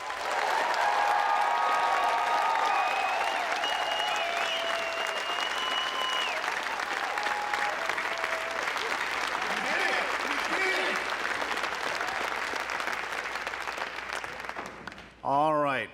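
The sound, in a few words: applause for graduates at university convocation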